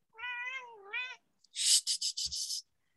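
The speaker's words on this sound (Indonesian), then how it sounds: "Ini aku kucing-kucing yang suka datang ke rumah nih." A stray cat that visits a house gives two drawn-out meows close by, then a short rapid burst of harsher, raspy cries, with no other sound around.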